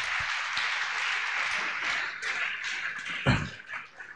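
A church congregation applauds during a thanksgiving service, giving dense sustained clapping that thins toward the end, with a few louder knocks and thumps and a faint background voice.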